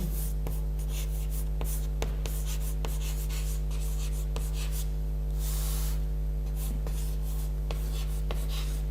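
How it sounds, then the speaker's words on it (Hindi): Writing on a board during a history lecture, with scratchy strokes and sharp taps repeating over a constant electrical hum, close and with no talking. "यहां पे लिख देता हूं, आरजुमंद"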